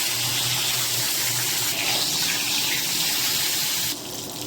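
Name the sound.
food frying in hot oil in a wok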